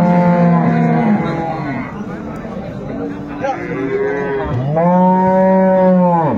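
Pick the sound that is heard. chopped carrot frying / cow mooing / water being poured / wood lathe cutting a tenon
cow mooing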